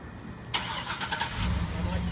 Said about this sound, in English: you go ahead and start the truck.